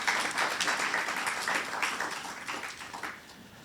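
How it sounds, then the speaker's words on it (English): Quiet applause from an audience at an anniversary celebration panel, a soft, steady patter of many hands that tapers slightly toward the end. "A round of applause for Mr."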